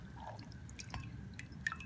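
Water drips from the roots of an orchid as the plant is lifted out of a container of water, a few soft separate drips close by over faint background noise, with no talking.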